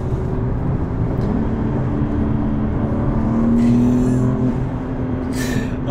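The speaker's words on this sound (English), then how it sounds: "Those intakes are so loud" A BMW G80 M3 Competition tuned to 550 whp accelerates, its intake droning and rising steadily in pitch, heard from inside the car as a continuous loud engine roar.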